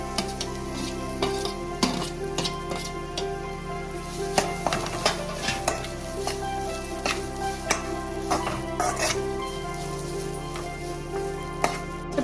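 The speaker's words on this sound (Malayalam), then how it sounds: "അതേ എണ്ണയിലേക്ക് തന്നെ നമുക്ക് തേങ്ങ ചേർത്ത് കൊടുത്ത് വറുത്തെടുക്കാം" Grated coconut frying in leftover oil for Kerala-style inji (ginger) curry, a steady loud sizzle under repeated scraping and stirring strokes of a spoon against the pan, with no talking.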